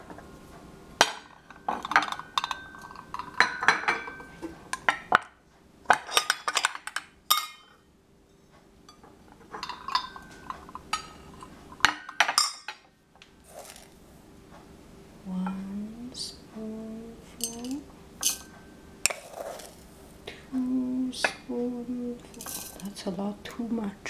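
A little metal spoon clinks and scrapes against tea containers and a cup while loose tea is measured, in scattered sharp taps and rattles, close by, with someone speaking between the sounds.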